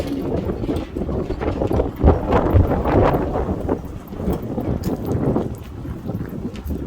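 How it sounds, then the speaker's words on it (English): Steady wind buffets the microphone outdoors at a cold marina, with irregular flapping and slapping of a dinghy's fabric against a boat throughout. "There's our dinghy flapping in the wind."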